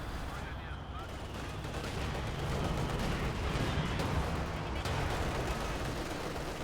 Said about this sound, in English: Katusha barrage, that is